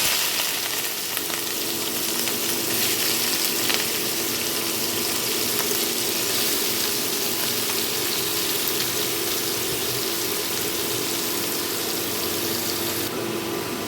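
Watermelon rind fries in a pan, a loud, dense, continuous sizzle and hiss that holds steady from start to finish with no talk over it.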